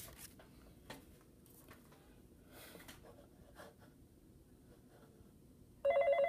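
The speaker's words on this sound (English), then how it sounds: "Alright, we're getting a phone call." In the video game Five Nights At Smudgers, a telephone starts ringing suddenly and loudly near the end, after a long stretch of quiet scrapes and rustles.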